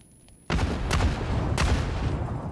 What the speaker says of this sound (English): It's a great explosion on the vehicle.